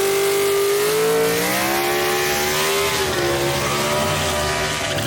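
A gasser drag race car, a 1962 Chevy II wagon, launches at a drag strip with a loud, close engine roar whose pitch climbs and sweeps steadily as it revs hard through the run.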